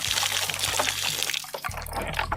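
Water streaming and trickling steadily out of a leaking jug during bullet-testing, a continuous close splashing pour with brief low thumps and a short dip partway through.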